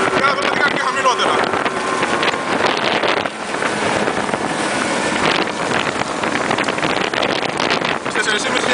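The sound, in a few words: Evinrude 115 E-TEC outboard on RIB boat at high speed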